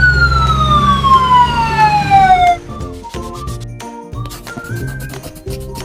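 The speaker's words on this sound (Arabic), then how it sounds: "أمبولانس سيارة إسعاف" A loud ambulance siren sweeps down in a long falling wail for about two and a half seconds, then gives way to a light melodic tune with plucked notes.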